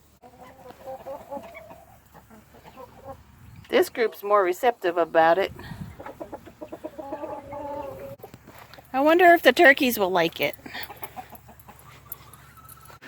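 Chickens cluck and squawk in bursts close by, while a person speaks in between.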